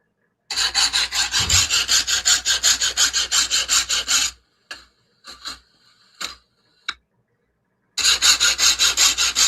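A file rasps back and forth on a chainsaw chain in a steady run of quick, close strokes, then pauses for a few short scrapes and clicks before the rhythmic filing resumes; no one speaks.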